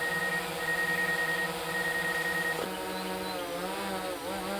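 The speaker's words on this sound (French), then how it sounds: "le détecteur fait un petit peu de bruit parce qu'il détecte un obstacle" A steady, high-pitched electronic buzz from a DJI Mavic 2 Pro drone's obstacle detector drones on, wavering and bending in pitch partway through, like a small motor whining continuously up close.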